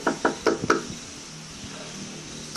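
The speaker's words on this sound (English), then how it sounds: "so I just knocked really hard" Hard knocking on a building's front door: four quick loud raps in an uneven burst, close by, followed by quiet.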